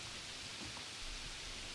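Rain falls as a soft, steady, even hiss of faint background patter, with no talk.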